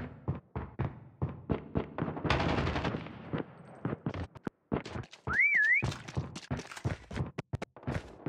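A short rising-and-falling prop hunt whistle in the mobile shooter Call of Duty Mobile sounds once amid rapid bursts of machine-gun fire and loud gunshots.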